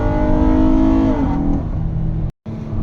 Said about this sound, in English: Now, this engine just sounds great, even before you get to VTEC.